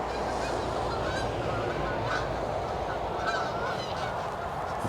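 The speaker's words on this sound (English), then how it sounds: "That's the geese buggering off for winter." Geese honk repeatedly as they fly off, in a loose, overlapping chorus, moderately distant, with a steady outdoor background and no talking.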